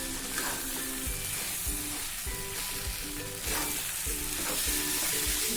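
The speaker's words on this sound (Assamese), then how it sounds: "এইখিনি ভাজি হৈ গৈছে" Taro leaves, sun-dried beforehand, fry and get stirred in a pan with fish head and tomato, giving a steady close sizzle broken by repeated scraping strokes of the stirring spoon. No one speaks.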